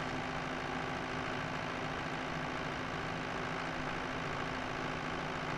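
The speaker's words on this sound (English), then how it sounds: "driving the tractor is the most important thing" Tractor engine idling and running in an Unreal Engine 5.3 video game, a steady, dense low rumble that holds evenly and loudly throughout with no break.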